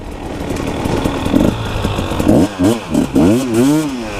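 A dual-sport motorcycle engine revs hard off-road, rising and falling in repeated bursts of throttle, loud and close, with no talking.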